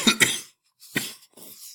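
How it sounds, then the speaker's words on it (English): Two quick harsh coughs close to the microphone, followed by a third cough and a softer trailing one. "That's just a cough"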